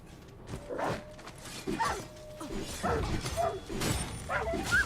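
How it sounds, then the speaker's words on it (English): Dog enemies in the fantasy action game Dragon's Dogma 2 bark and yip in quick bursts, several barks spread over a few seconds, moderately loud over game noise. "I find dogs being the most basic enemy we've seen so far"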